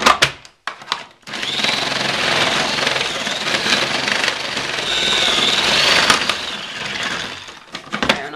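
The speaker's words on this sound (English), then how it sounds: "So what we do is we just stuff a few Brussels sprouts into the funnel" Food processor fitted with a slicing insert shredding Brussels sprouts, a loud continuous grinding whir that holds steady for several seconds after a brief start-up, with short clatters at the beginning and end.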